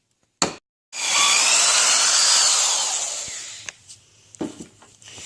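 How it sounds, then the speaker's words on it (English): Power drill pre-drilling screw holes through skis into stacked wood for a ski bike build, one continuous loud whining run of about three seconds that winds down, followed by a few clattering knocks. "You now want to do all the pre-drilling for the screws that you're going to put in for the stacks of wood"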